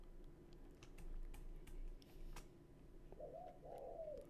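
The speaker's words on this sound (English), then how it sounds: "It's not an owl. It's like a tiny bird." A tiny bird calls with a few soft, quick chirping notes near the end, faint and somewhat distant, following a stretch of quiet background with scattered clicks and rustles.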